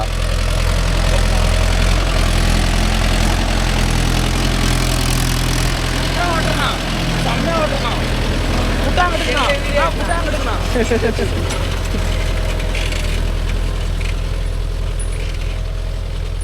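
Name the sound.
Mahindra Yuvo Tech Plus 585 tractor engine running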